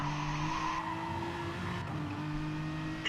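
A race car slides through dirt in a racing video game, a steady engine drone with tire scrub, heard alone and fairly close for a few seconds.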